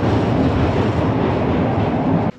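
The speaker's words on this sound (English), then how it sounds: "Halfway, you can tell, because there's the other train." A steady, loud rumbling funicular train roar with rolling wheel noise, close by and continuous, cutting off abruptly at the end.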